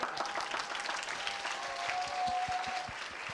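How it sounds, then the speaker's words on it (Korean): Audience at a summer camp concert breaks into sustained applause, dense clapping filling the hall from start to finish, with a faint tone running underneath. "박수 한번 쳐주세요"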